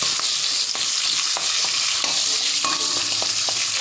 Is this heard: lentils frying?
yes